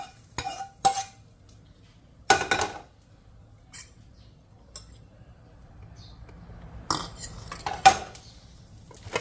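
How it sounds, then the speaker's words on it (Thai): Stir-fried instant noodles are scooped from a pan onto a plate, with a few scattered metallic scrapes and clinks of a utensil against the pan separated by quiet gaps. "แล้วก็ตักขึ้นใส่จานนะคะ"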